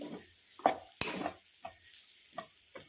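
Raw banana pieces are stir-fried in oil, with a spatula scraping and tossing them in a pan in several distinct strokes over a soft sizzle, close and fairly quiet.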